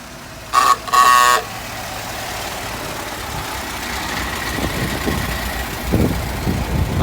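A 1922 Model T Touring car gives two short honks of its horn, then its engine starts and settles into a rough, loping idle, close by and growing louder with uneven chugging pulses.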